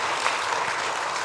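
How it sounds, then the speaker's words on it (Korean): A church congregation at an Easter Sunday service claps for the children, a brief, even burst of applause from many hands with no voices over it. "박수합시다."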